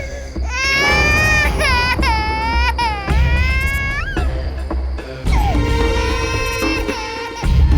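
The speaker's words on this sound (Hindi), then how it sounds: "बच्चे के रोने की आवाज" Loud, wailing cries of a baby in a drama scene, repeated rising and falling sobs that fill the clip from start to finish with only brief breaks between them.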